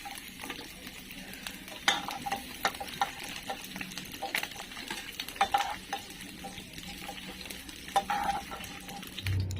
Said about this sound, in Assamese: এতিয়া পনীৰ আৰু কচুখিনিও ফ্ৰাই কৰি ল'ম।